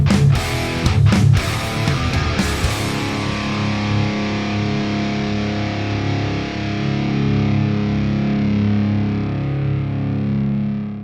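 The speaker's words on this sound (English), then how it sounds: "It's kind of just like a straight up kind of meat and potatoes type of riff." A heavily distorted electric guitar plays a chugging riff with a few sharp palm-muted stabs, then ends on a long ringing chord that sustains loud and alone before slowly decaying.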